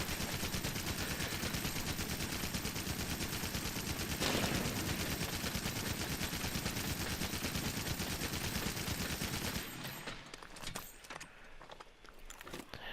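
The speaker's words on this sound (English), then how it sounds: "The special attack with this one is like a Gatling gun." Rapid, dense Gatling gun fire from a special attack in Monster Hunter: World rattles on loud and steady for about ten seconds, then cuts off, leaving quieter scattered game sounds.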